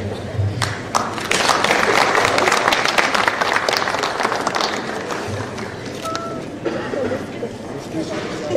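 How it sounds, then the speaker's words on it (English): An audience at a Kenya Film Commission event gives a speaker a sustained round of dense clapping, loud and close, with some talk faintly underneath. "A clap for David, please."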